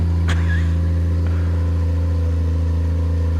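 A 1940 Mercedes 320 engine revs steadily while the car sits stationary doing a smoky burnout in a workshop, a close, even, droning hum, with a sharp knock near the start and a short whine just after.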